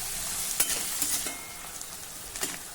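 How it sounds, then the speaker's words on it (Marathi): Onion sautés in a pan for ukadpendi, a makyachya pithachi (maize flour) dish, giving a soft, steady sizzle punctuated by a few brisk stirring scrapes, close and fairly quiet. "हा कांदा आपल्याला हलका तांबूस रंगाचा होईपर्यंत परतायचा आहे"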